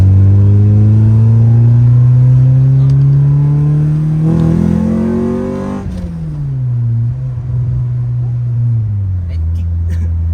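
A Honda Civic with a B20B engine accelerates hard through the gears, its loud close engine note climbing in pitch, dropping at a shift and rising again, with some faint talking underneath.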